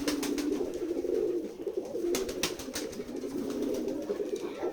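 Pigeons coo continuously at a village pigeon farm in Jessore, with repeated low throaty rolling calls overlapping close by and occasional wing flutters or clicks, and no talking.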